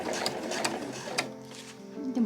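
A sewing machine stitches a tote bag, running in a fast, close mechanical whirr that eases and slows partway through, then continues more quietly.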